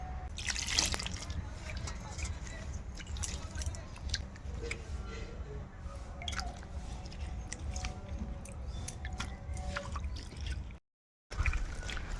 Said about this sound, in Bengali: সমস্ত সবজিগুলো ভালো করে আমি ধুয়ে নেব জল দিয়ে